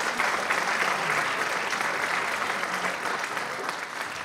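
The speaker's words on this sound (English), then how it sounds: "give yourselves a round of applause and the students a round of applause" An audience at a college band concert applauds in a dense, steady wash of clapping that holds at a fairly loud, even level throughout.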